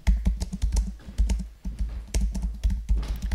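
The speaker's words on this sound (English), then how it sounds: "so I'm really typing extremely badly" Computer keyboard typing in quick, uneven bursts of close, loud key clicks with brief pauses between flurries, during a demo of an AI assistant in private beta.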